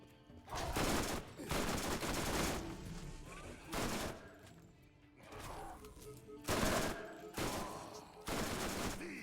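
Bursts of rapid automatic gunfire in a Borderlands 3 firefight against spider ants, loud and close, coming in several clusters separated by short lulls.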